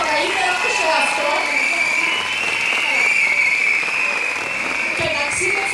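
Sustained applause from a crowd at an outdoor closing ceremony in Trikala, a dense steady wash of clapping that fills the whole stretch.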